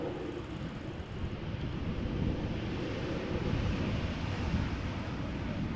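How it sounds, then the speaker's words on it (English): A Finnair Airbus A321 passing by after landing at Amsterdam Schiphol Airport, a broad, distant roar that swells slightly and holds steady, with some wind on the microphone and no speech. "A321 from Finnair going back to Helsinki pass by."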